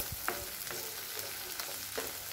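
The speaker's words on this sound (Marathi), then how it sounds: "आता हे चांगलं परतून घ्यायचं" Ground spices with turmeric, homemade masala and kitchen king masala sautéing in a pan over low heat, giving a soft continuous sizzle with a few faint stirring scrapes.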